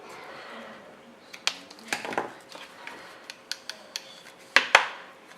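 Scissors snip off loose thread ends on a DIY unicorn craft kit, giving soft, close, irregular clicks and short cuts over a quiet room, with a couple of sharper snips near the end.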